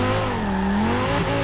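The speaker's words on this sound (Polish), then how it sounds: "Takie płytkie drifty nim na razie próbuję robić" Car drifting in Forza Horizon 4 on standard tyres, with a steady engine drone and rising and falling tonal whine over a continuous tyre-squeal wash, loud and close throughout.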